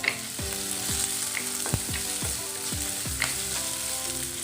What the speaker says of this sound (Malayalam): ഇത് നന്നായി പച്ചമണം മാറി ഒന്ന് വഴറ്റിയെടുക്കണം.